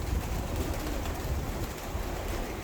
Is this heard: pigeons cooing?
yes